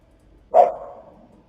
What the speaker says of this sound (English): Just barking.